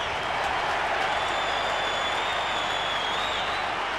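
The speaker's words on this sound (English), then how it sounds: "From the crowd noise." Crowd roar at a 1995 AFL match between Collingwood and Richmond, as a goal is kicked, a dense, sustained cheer and applause filling the whole stretch without pause.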